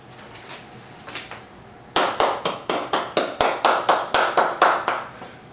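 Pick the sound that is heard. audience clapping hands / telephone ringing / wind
audience clapping hands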